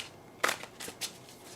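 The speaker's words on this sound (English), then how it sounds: "We're going to shuffle that deck and we are going to throw." A Wizards Tarot deck is shuffled in a few quick, soft riffling bursts, faint and close, with short gaps between them and no talk.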